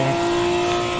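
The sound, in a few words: drifting car engine at high revs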